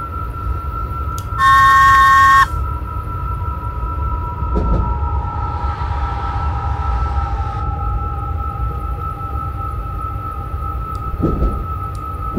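A London Underground Metropolitan Line train runs steadily in Train Simulator 2018. Its motor whines at a constant pitch, a short sharp two-tone horn blast sounds early, and the wheels rumble and squeal faintly along the track.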